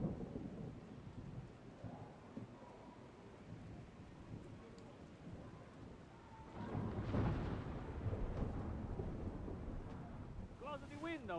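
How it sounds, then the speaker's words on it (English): Rain falls with low rumbling thunder in the video game Mafia: The Old Country, a dim, distant storm that swells midway, with characters talking quietly over it. "It's starting to rain."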